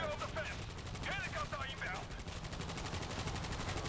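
Rapid automatic gunfire in the zombie shooter World War Z, a steady fast rattle of shots throughout, with faint voices underneath.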